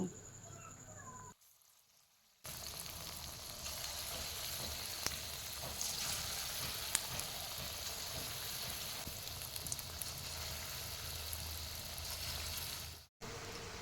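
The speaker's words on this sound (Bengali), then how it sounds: "বাকি বড়াগুলো আমি ঠিক একইভাবে ভেজে নেব" The remaining ripe mango fritters frying in oil, a faint, even hiss of sizzling that runs steadily after a brief quiet gap, with a short cut near the end.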